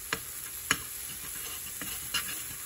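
Roux for country gravy cooking in a pan while being stirred, quiet sizzle with a few distinct spoon taps and scrapes against the pan.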